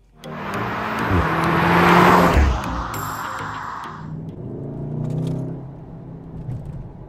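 A Revo Stage 1 tuned VW Golf R pulls away, its engine note swelling loudly for a couple of seconds before settling into a steadier, quieter drive with some cabin rumble.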